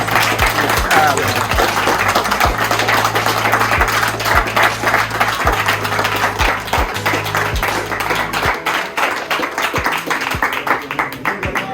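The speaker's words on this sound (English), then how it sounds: "We give our love a round of applause now, please." Small group claps in a room while unpacking a shipment of designer T-shirts, steady rapid clapping with a low hum underneath, fairly close and continuous.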